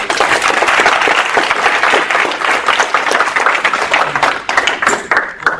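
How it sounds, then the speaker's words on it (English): Loud, close applause from a student government meeting audience, many hands clapping in a dense, sustained burst that thins slightly near the end. "Hey, we give him a hand of applause."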